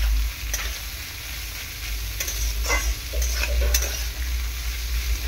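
Beans and carrots fry in a pan, a steady sizzle broken by occasional scraping stirs of a spatula, close and moderately quiet with no voices.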